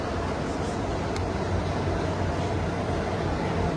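Steady rumble and hiss of a moving train heard from inside a 3-tier AC sleeper coach, a continuous low roar with constant noise filling the space and no talk over it.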